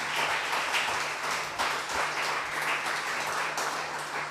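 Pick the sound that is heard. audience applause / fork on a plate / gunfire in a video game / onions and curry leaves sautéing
audience applause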